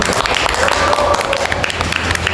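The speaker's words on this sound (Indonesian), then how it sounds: "tepuk tangan dulu dong" Audience applause on an Indonesian talk segment about student councils, a short, loud spatter of clapping mixed with laughter and chatter close by.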